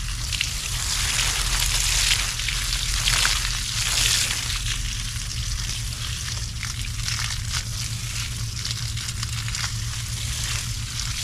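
Garden hose or sprinkler watering a dry garden during a drought and heat wave, spraying to mimic a thunderstorm: a steady, close hiss of water splashing like rainfall, continuous throughout with a low hum beneath.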